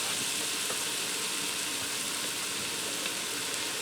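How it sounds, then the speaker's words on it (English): Ground beef browning in a pot, a steady close sizzle and hiss that holds level throughout with no talking. "So I'm going to go ahead and brown my ground beef up."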